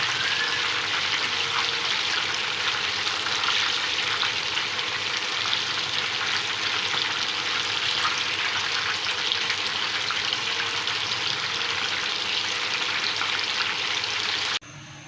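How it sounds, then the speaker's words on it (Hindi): Chicken pieces frying in a pan on a medium-low flame give a steady, even sizzle that holds close and constant throughout, with faint crackles and no voices. "इस तरह आपने सारी चिकन एक दफ़ा ही डाल देनी है और मीडियम लो फ्लेम पे आपने इसको फ्राई करना है 3 से 4 मिनट"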